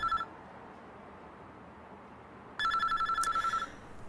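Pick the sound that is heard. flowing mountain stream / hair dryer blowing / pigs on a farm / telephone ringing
telephone ringing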